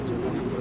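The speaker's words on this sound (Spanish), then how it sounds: "allá tengo las palomas" Pigeons coo from a rooftop, a single brief low soft coo heard up close.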